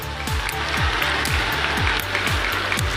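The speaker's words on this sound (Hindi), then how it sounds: "जोरों से ताली बजाइए साथियों" Sustained applause from a large crowd at a public gathering, dense and steady throughout, with a rhythmic low thumping running underneath.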